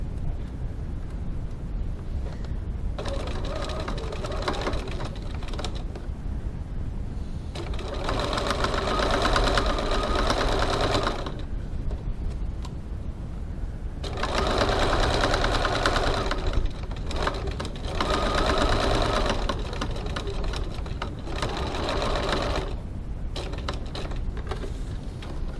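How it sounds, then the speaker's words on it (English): A sewing machine stitches a 6mm (1/4 inch) seam on a crossbody bag at stitch length 2.4, running in several steady bursts of a few seconds each with short pauses between them, close and clear with no talk. "Just going to stitch this on using a 6mm 1/4 of an inch"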